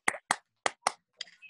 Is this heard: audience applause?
yes